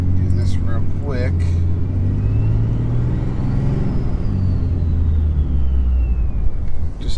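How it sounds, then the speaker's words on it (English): A truck fitted with an add-on turbo kit drives along with a steady low engine drone and a thin turbo whistle that rises and falls, while a person talks over it. "Just I love that turbo sound."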